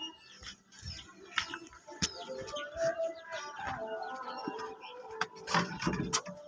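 Pigeons in a pigeon loft, soft cooing and fluttering chirps with scattered wing flaps and rustles, close and fairly quiet.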